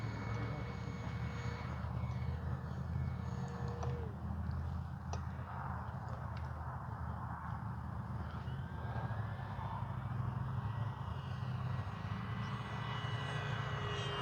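A Kavan Bristell B-23 RC model propeller plane drones steadily in the air, its engine pitch shifting slightly as it moves, heard over faint wind noise.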